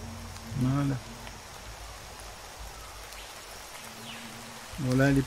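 Steady rain falls in the Minecraft modpack Craft to Exile, a continuous soft hiss that runs through the whole stretch while brief bursts of speech come in at the start and end.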